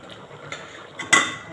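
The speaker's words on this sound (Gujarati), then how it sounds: "આપણે સારી રીતે હલાવી લેશું" A spoon stirs a spice mix of turmeric, red chili powder and coriander-cumin powder for spinach muthiya, giving a few sharp clinks and scrapes against a bowl, close by, with the last knock the loudest and no talking.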